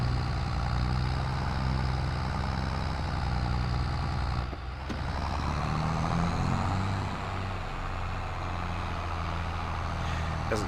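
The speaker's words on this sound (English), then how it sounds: "this tractor is really struggling up this hill" A John Deere tractor engine in a farming video game labors uphill with a steady, heavy low drone that continues without a break, and there is a brief dip partway through.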